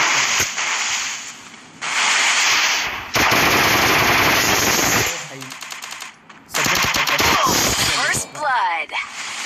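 Rapid bursts of machine gun fire in a video game match, loud crackling volleys starting and stopping in several long strings, with a person talking excitedly over the shooting.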